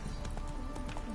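Roach the horse gallops in The Witcher 3, with rapid rhythmic hoofbeats in an even clip-clop pattern, fairly faint but steady across the short stretch.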